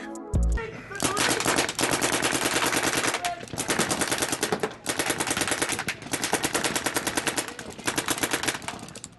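An old-school DM paintball marker firing in long, rapid strings of sharp pops, loud and close, broken into several runs by brief pauses.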